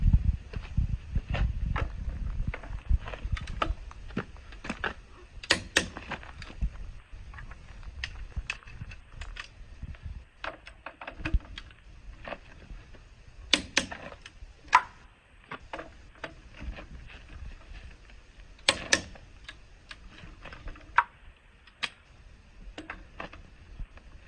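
Wheel lug nuts being tightened by hand with a four-way lug wrench, each wheel's nuts done in a star pattern, giving a series of sharp metallic clicks and ratchety ticks at irregular intervals over a low rumble, no talking.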